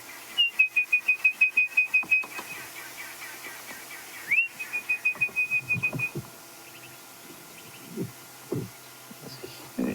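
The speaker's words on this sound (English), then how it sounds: "You hear the babblers going. You hear now an orange-breasted bushwright going." Babblers and an orange-breasted bushshrike call in the wild: bursts of rapid, evenly spaced clear whistled notes repeat in two runs, then scattered softer calls and faint rustles follow.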